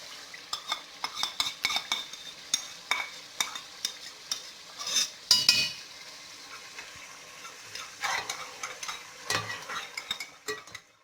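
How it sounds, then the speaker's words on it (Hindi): Yogurt and biryani masala are stirred into chicken cooking in oil, with repeated close clinks and scrapes of a spoon against the pot over a light sizzle, in uneven bursts throughout. "ये दही अच्छी तरह मिक्स होना चाहिए"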